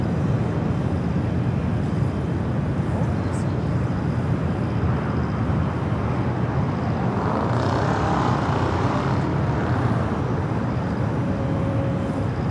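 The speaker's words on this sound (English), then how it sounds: "621 taking off to Rome, Italy on the A350-900" An Ita Airways Airbus A350-900 takes off at LAX, a broad steady jet roar that builds and holds, loud and somewhat distant, with a faint whine surfacing toward the end.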